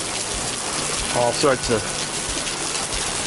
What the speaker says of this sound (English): There's a waterfall coming down